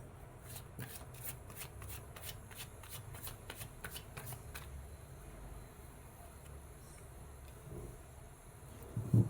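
A deck of tarot cards being riffle-shuffled close by, a quick run of crisp, evenly spaced flutters that ends partway through, followed by quiet room tone and a brief knock at the end.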